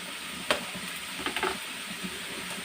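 Close, steady sizzle of onions and green chillies frying in a pan with turmeric, with a few sharp clinks and stirring scrapes breaking through.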